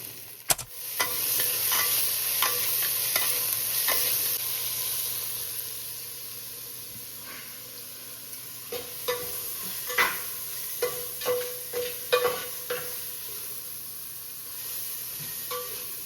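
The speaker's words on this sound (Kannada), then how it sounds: "ಆನಿಯನ್ ಫ್ರೈ ಆದಮೇಲೆ ಅದರ ಮೇಲೆ ನಾವು ಟೊಮೆಟೊ ಹಾಕಬೇಕು" Chopped onions and tomato sizzle in a pan with a steady frying hiss, broken by scraping and stirring clatter as the pieces are moved around, fairly close.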